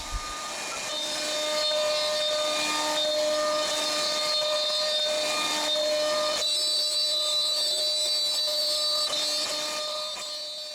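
CNC router cutting plywood for an adjustable workshop fence, a steady high whine with tonal harmonics over a hiss, shifting pitch partway through as the cut changes, with no talking.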